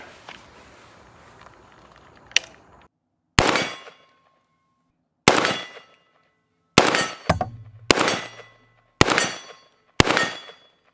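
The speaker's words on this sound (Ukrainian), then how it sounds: "Я зарядив 6 набоїв, все відпрацювало чітко по центру гонга" A B&T APC300 rifle fires at a steel gong about 40 metres away: roughly six evenly spaced sharp reports, each followed by a quick metallic ring, loud and close against an otherwise quiet outdoor range.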